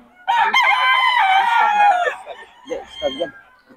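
A young rooster (stag) at the Bocaue tiangge market crows loudly and close by in one long call, followed by brief clucks and voices.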